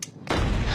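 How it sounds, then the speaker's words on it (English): An explosion fired in a supernova demonstration, set off with a barrier in the middle, bursts in suddenly after a brief quiet lead-in and then roars on loud and broadband to the end, with no voices. "When we made an explosion with a barrier in the middle, we get these beautiful lobes go out on either side."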